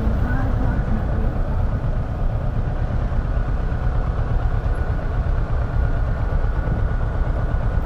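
A 2018 Kawasaki Versys 650 ABS Tourer engine idles hot in a steady low rumble, with its radiator fan whirring constantly underneath, loud and close throughout.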